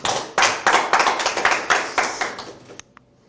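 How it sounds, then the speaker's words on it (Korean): A lecture audience claps on request after a talk about the mugunghwa spirit and character education, producing a burst of fairly rhythmic hand claps from many people that carries on for a few seconds, then thins out and stops. "공감하시면 박수 한번 부탁드리겠습니다."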